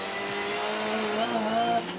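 Nissan touring cars race nose to tail at Amaroo Park in 1992, their engines a continuous high-pitched drone with a rising note, heard under a commentator's voice.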